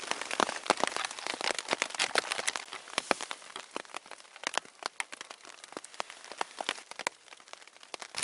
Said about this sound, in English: I don't consider it a perfect morning without perfect rain shower